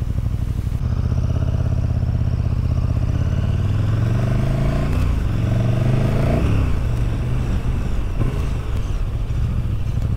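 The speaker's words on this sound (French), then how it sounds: "même avec la chicane, ça fait un bruit très très sympa" A KTM 1290 Super Duke R motorcycle engine with its exhaust baffle fitted runs loud and close, pulling through rising revs and gear changes in a deep, throaty roar for about ten seconds.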